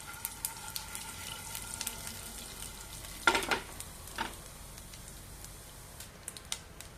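About a tablespoon of urad dal and chana dal frying in a pan until reddish makes a faint, crackling sizzle with scattered pops and a louder clatter of stirring midway.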